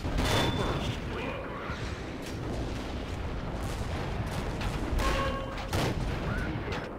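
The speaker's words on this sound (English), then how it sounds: "I like the gun sound on this one. Just listen, this is the normal sounds." Default, unmodded main-gun shots from a Churchill 3 tank in a tank battle game boom out as a few separate blasts amid steady battlefield rumble, with a voice talking over them.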